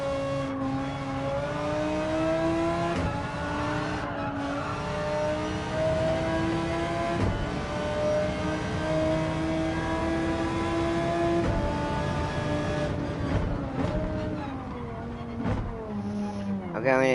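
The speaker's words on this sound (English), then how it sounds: "She's really starting to squeal now" A race car in Gran Turismo 7 at Dragon Trail Gardens carries a sustained, wavering tonal whine of squealing tyres over a steady engine drone, rising and falling through the corners.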